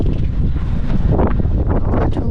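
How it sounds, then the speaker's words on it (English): Strong wind buffets a sailboat outdoors, a steady, loud roar of gusts and microphone rumble filling the whole stretch without letup. "It's quite windy today."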